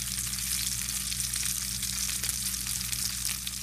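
Fish breaded with crushed Cool Ranch Doritos fries in a pan, giving a steady, close, bright sizzle and crackle with a low constant hum underneath and no voices.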